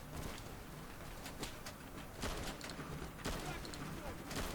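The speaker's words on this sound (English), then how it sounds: "I'm seeing literal gunshots hit the wall right next to me" Gunfire in the video game Easy Red 2 during an industrial roundabout shootout, with bullets striking a wall nearby: repeated sharp cracks and impacts in irregular bursts over a dense, noisy battle background.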